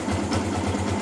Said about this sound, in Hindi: फाइनली बाइक हो चुकी है स्टार्ट। अब देखो इसका साउंड कितना इसका क्रिस्टल क्लियर आ रहा है